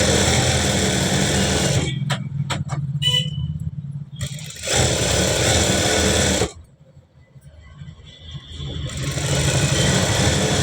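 A sewing machine stitches along a folded fabric edge of a blouse piece, running in steady mechanical bursts that stop twice in brief pauses, loud and close.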